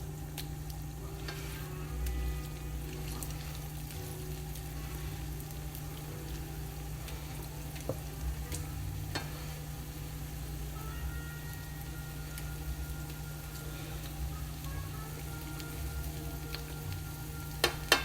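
A thick kimchi pancake fries in an oiled pan on high heat, giving a steady, quiet sizzle with small crackles and no talking.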